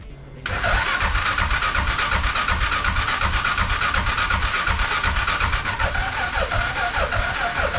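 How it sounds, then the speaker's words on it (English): Arctic Cat 500 ATV engine cranking over but not firing, a loud rapid rhythmic churning from the starter that begins abruptly and carries on steadily for several seconds without catching. "I tried starting it and she's just cranking over"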